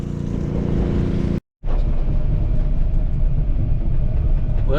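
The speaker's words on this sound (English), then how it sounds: "the pump's still pumping along here" Water pump running beside a farm pond, a steady loud mechanical drone broken once by a brief dropout, then continuing evenly with a faint rushing wash.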